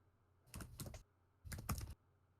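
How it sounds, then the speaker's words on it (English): Two quick bursts of typing on a computer keyboard, each about half a second of rapid clicking, quiet and close with a brief pause between them. "There's typing."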